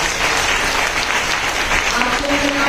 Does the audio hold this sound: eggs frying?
no